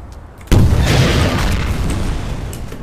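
A rocket launcher blast in a video game, one sudden loud boom that rolls on as a dense rumbling roar, slowly fading over a couple of seconds.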